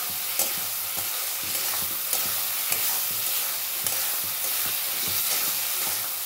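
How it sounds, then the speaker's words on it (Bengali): Potato and paneer pieces fry with spices in a pan, a steady sizzle under repeated scraping spatula strokes as they are stirred and cooked down, with no voices. "দিয়ে মশলাটা খুব ভালো করে কষিয়ে নেব।"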